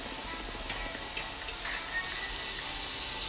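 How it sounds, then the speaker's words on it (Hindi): Chicken pieces sizzle on a hot grilling pan, a loud, steady, close hiss of frying that runs throughout with no voices over it. "ग्रिलिंग पैन को हमने गर्म करके उसमें चिकन रख दिया"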